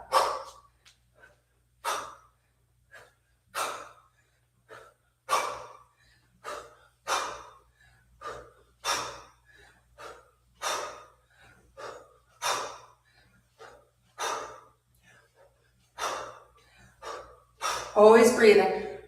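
Sharp, rhythmic breaths repeat about every second or two during a kettlebell snatch workout, each a forceful exhale close to the microphone, ending with a heavier, rougher burst of breathing.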